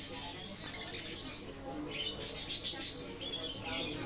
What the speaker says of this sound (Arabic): لمسابقة يتبارى من خلالها أجود الطيور المغردة